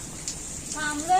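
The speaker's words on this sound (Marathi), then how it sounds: "पाऊस पडतोय" Rain falls at a roadside stop in a ghat near Lonavala, a soft, close patter with a brief rising tone near the end, with no clear talk over it.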